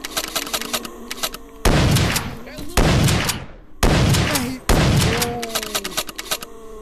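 Shotgun fire in a VRChat zombie survival game: four loud, close blasts spaced about a second apart, each with a short decaying tail, and faint background noise between shots.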